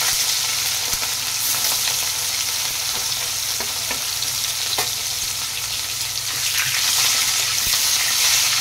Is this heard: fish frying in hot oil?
yes